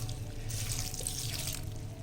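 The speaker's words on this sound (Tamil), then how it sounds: "இதில் வந்து நம்ம தேவையான அளவு இது மூழ்கிற அளவுக்கு தண்ணி விட்டுடலாம்" Water pours steadily into a cooker pot holding cabbage and moong dal with turmeric for a kootu, a continuous close splashing stream that runs the whole time with no talk.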